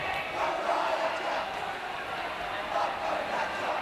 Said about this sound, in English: The crowd cheering our schools on